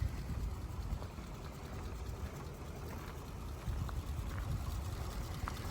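A 1934 Ford V8 Victoria engine idling very quietly, an even low rumble with a faint steady whine, continuous and unbroken throughout.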